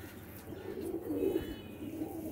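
Golden pigeons coo softly, a faint low murmuring call swelling in the middle and easing off, with no talk.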